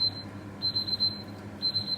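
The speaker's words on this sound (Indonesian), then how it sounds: "timer saya bunyi" A kitchen timer rings in repeated high-pitched electronic bursts, three beeping runs separated by short gaps, clear against a low background hum during cooking of a fish pie.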